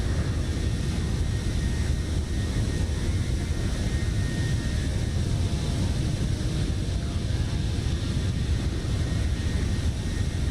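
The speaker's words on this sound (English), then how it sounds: "Lalu flying an Indonesian Air Force C-130 Hercules" Engines of an Indonesian Air Force C-130 Hercules in Microsoft Flight Simulator drone steadily with a deep, unbroken roar and a faint high tonal whine throughout.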